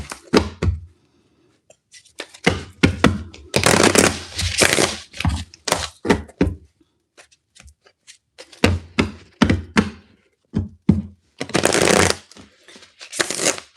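Tarot cards being shuffled in quick bursts of riffling and slapping, with short pauses between rounds, close and fairly loud; no voices.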